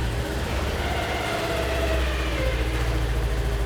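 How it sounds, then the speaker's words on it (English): A Segway Villain SX10 side-by-side runs at a steady idle just after a belt change, its low engine rumble constant and fairly close with no clear revving. "It's a good idea to go ahead and start the vehicle, and that should get the clutches to reset back to their neutral position"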